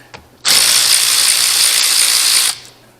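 Battery-powered tool loosening a bolt on turbo up-pipes near the intercooler-to-intake connection, one loud continuous whirring burst lasting about two seconds that stops abruptly, close and alone.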